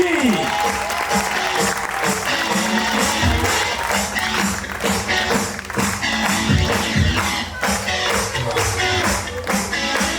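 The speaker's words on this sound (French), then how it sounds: "je voudrais qu'on applaudisse bien fort" A prom audience claps loudly and steadily for the sound-desk operator, dense sustained applause with scattered sharper claps filling the whole stretch.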